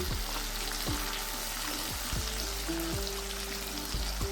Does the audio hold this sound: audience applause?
no